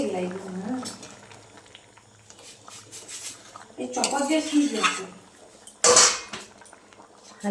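Ghugni bubbling in a pot, with clinks of utensils and a sharp metallic clatter as a lid is set on top, while a person talks over the cooking.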